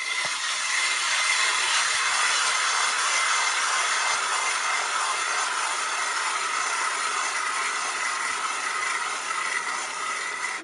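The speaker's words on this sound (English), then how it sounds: "let me just show you how easily it works as just a hand auger." NILSUSA UR800C auger turned by hand as a manual auger, its cutting head boring with a continuous steady scraping, grinding rasp that stays loud and even throughout, with no talking.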